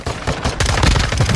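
Rapid automatic gunfire rattles close and loud in a Call of Duty match on Ashika Island, a dense burst of shots with no pause.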